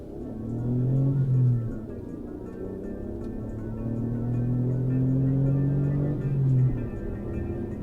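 An Alfa Romeo GTV 916 V6 drives along with its engine not running smoothly, a steady close hum rising and falling in pitch as the revs shift up and down.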